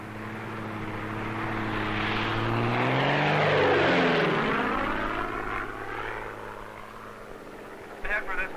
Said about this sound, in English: This plane, operating from a weather research base in Montana, is about to perform an experiment on a cloud.